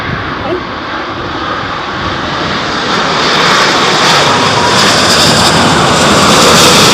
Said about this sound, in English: Cathay Pacific, 5th in line to land.